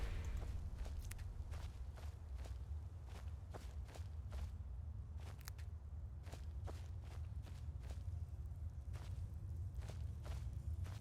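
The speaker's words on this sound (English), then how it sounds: "Hear the footsteps." Footsteps in Skyrim inside an enclosed space: a long run of faint, steady steps at a walking pace, with a low rumble underneath and no voices.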